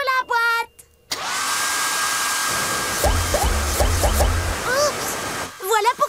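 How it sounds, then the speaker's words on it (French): A hair dryer in a cartoon bath scene blows with a steady loud whoosh for several seconds, while voices and squeaky animated sound effects play over it and around it before it stops. "Je ferais mieux d'éteindre le sèche-cheveux."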